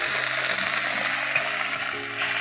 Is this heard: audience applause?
no